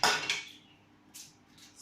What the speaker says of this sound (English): let's chop the next onion